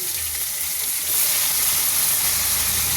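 Eggplant and potato pieces sizzle loudly in hot oil, a dense, steady frying hiss that swells as the vegetables hit the pan and stays close and continuous.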